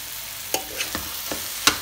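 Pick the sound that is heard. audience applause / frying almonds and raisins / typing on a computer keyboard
frying almonds and raisins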